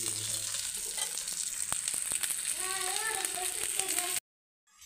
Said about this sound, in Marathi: इथं आता मासा फ्राय करायला ठेवलाय